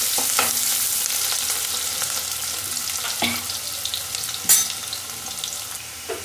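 Onions frying with garlic and chilli in a pan sizzle loudly and steadily up close, broken by occasional stirring scrapes and one louder clatter near the end, with no talking.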